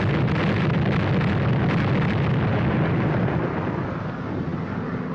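A bomb explosion from a bomb sight test, a loud, sustained rumbling blast that rolls on for several seconds and slowly fades, heard alone without talk.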